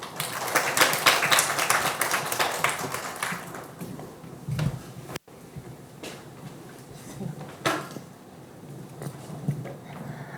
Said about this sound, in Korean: 좀 박수로 환영해 주시죠.